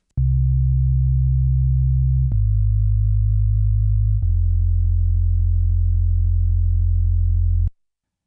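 Two detuned sine wave oscillators forming a sub-bass synth patch in a DAW, a steady low hum that shifts pitch twice with clicks at each change, continuous and loud with no voices.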